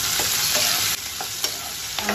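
Green chillies and capsicum sizzle steadily in a hot pan for chilli paneer, with close, loud continuous frying and a few scraping stirs of a spatula.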